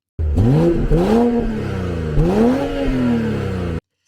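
A turbocharged inline-six car engine of over 330 horsepower revs up twice in quick succession while accelerating, pitch climbing through each pull, loud and close, with no voices.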